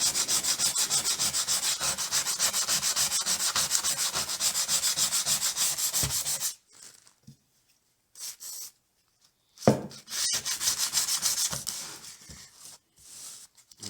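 A hand plane blade is rubbed back and forth by hand on 120 grit wet/dry sandpaper with WD-40, a rapid close rasping scrub for about six seconds, then silence broken by a few short strokes.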